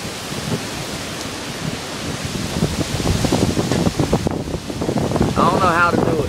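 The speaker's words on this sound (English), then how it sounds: "That wind is picking up." Strong, steady wind from Hurricane Irene roars and buffets the microphone, growing louder toward the end, with a voice briefly audible underneath.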